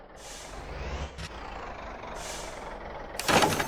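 Truck coupling to a trailer in the video game MotorTown: a low engine rumble throughout, with hissing air bursts and a sharp clank and hiss of the hookup at the end.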